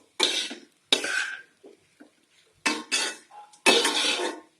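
Sabudana khichdi is stirred in a pan with the gas switched off: several short scraping, clattering bursts of a spoon against the pan, separated by brief pauses, close and fairly loud with no talking.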